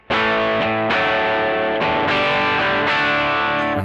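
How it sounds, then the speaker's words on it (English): An electric guitar runs through the light drive channel of a Trex Dual Drive overdrive pedal, playing a series of loud, sustained overdriven chords that change every half second or so, with no talking. "Okay, and then I go for my light drive."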